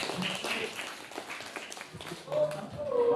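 Students in a classroom clap in a scattered, uneven burst of hand claps, with voices talking over the clapping.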